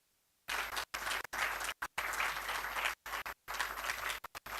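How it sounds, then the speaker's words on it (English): Conference audience giving a round of applause for a speaker, steady dense clapping that cuts in and out in short gaps, fairly loud and without talk. "A huge round of applause, please."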